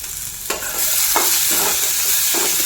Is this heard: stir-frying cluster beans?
yes